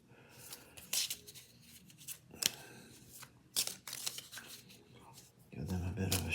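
Cards are riffled and shuffled in several quick, crisp bursts, close by, with short pauses between and a brief bit of talk at the end.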